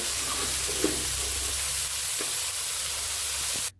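Radish greens sizzle steadily in hot peanut oil seasoned with asafoetida, a dense, continuous frying hiss close by that cuts off abruptly at the end.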